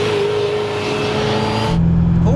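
A Ferrari Mondial T accelerates from the cabin, its engine note climbing steadily as it pulls, then shifting to a lower, steadier drone after a gear change; loud and close, with no talk over it.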